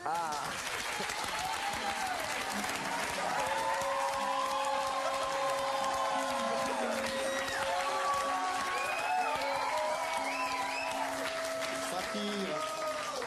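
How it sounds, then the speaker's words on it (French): A French television studio audience applauds to welcome a performer, giving steady, loud clapping throughout while voices and singing sound over the top. "Et je vous demande de l'accueillir sous vos applaudissements."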